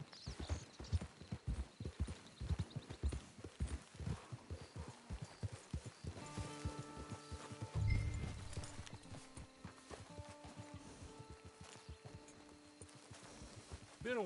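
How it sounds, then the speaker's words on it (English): In a video game, a horse's hooves clip-clop in a quick, even rhythm close by. They then slow and fade under a low ambient hum and a soft tonal drone. "It's your horse."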